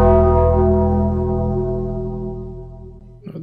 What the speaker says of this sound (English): That was the sound of The Undertaker